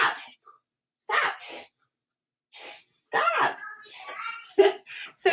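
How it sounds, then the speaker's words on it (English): A child sneezes repeatedly in the background, a series of sharp bursts separated by short pauses, mixed with breathy sounds and a little talk. "like sneezing in the background"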